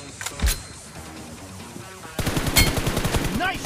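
Rapid bursts of machine gun fire in a video game team deathmatch, starting with a few sparse shots and then breaking into a loud, sustained stream of gunfire.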